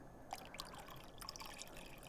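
Warm red water poured gently into a bin in a classroom demonstration, a soft trickle with faint drips and splashes, quiet and close.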